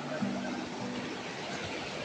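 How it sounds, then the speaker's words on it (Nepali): Water flows steadily through an irrigation channel outdoors, a constant close rushing sound with a brief low voice murmuring over it. "यताबाट जाँदैछ पानी"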